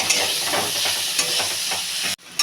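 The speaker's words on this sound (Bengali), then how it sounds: "ভালো করে নাড়াচাড়া করে নেব" Chopped potato and pointed gourd frying in a pan with a little sugar, stirred steadily with a spatula; a loud, close sizzle with scraping strokes, stopping abruptly near the end before resuming.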